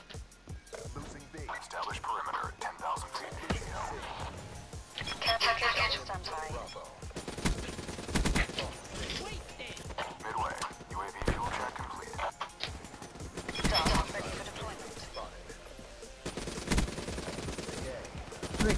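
An ICR-1 assault rifle fires bursts of automatic gunfire during a Black Ops III multiplayer match, mixed with game effects and a player talking over the action.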